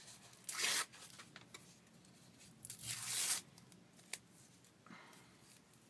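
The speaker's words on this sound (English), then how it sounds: "I might have to actually rip a piece of that off" A piece of embossed paper napkin torn off by hand in two quick rips, close and fairly quiet, with faint handling rustles between.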